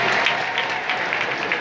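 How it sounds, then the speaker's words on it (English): Applause fills a sumo arena in Tokyo as a wrestler throws salt into the ring, a steady dense clapping from a large crowd throughout. "with the big applause after throwing the salt into the ring in spectacular fashion"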